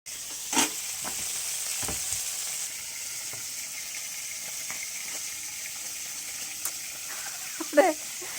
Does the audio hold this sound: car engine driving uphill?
no